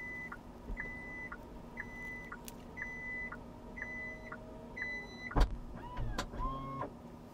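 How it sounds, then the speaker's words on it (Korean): A Hyundai Ioniq 5 power tailgate closes with a series of repeated electronic chimes at an even pace, then a sharp latch thunk and a whirring electronic lock engaging, heard from close by. "이렇게 전자식으로 잠기는 소리가 나면 떼주시면 돼요."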